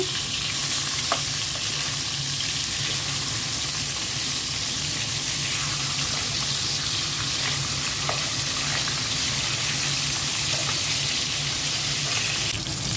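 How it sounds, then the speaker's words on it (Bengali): Pieces of rohu fish fry in hot oil with a loud, dense, continuous sizzle, a few faint clicks from the pan rising above the steady crackle. "মাছগুলো উল্টে দিচ্ছি"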